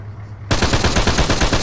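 Rapid machine gun fire from the Arma 3 military shooter game erupts abruptly after a short quiet moment, a loud, dense stream of shots continuing to the end.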